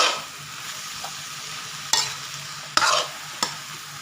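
Bamboo shoots sizzle steadily in a hot pan while a wooden utensil scrapes and stirs them in a few sharp strokes, close up, with no talking.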